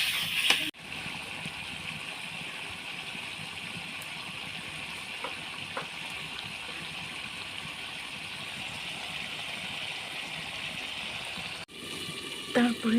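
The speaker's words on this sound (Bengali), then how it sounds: "এই তো আমি তরকারিতে পানি দিয়ে দিচ্ছি।" Water is poured into simmering meat curry in a pan, a steady soft gushing and sizzling hiss that runs continuously at moderate volume, with a small clatter at the end.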